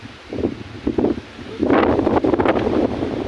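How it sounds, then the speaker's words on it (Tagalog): Gusty wind buffeting the microphone outdoors beside the water on a fishing outing, rumbling bursts early on that swell into a loud, sustained rushing roar with leafy rustle. "Eh, mahangin."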